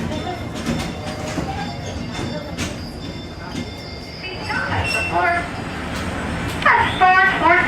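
The Disneyland Railroad train rolls along the track with a continuous rumble, rhythmic wheel clatter and occasional squeals, heard from on board with a recorded announcement playing over it.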